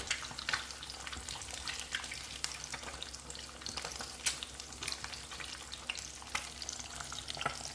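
An egg frying in a pan with a little oil, a steady close crackling sizzle carrying on throughout with scattered sharper pops and faint stirring or tap-water sounds in the background.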